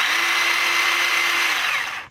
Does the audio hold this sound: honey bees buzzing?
no